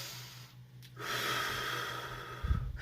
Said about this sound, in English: Hold the breath for 2 seconds before exhaling slowly through your slightly closed lips.